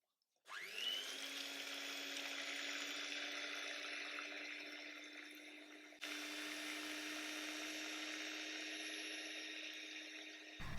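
An electric hand mixer whirs steadily and loudly, whisking egg whites with a little white vinegar or lemon juice into meringue for a Swiss roll cake, with a brief dip in pitch partway through before the motor runs on alone.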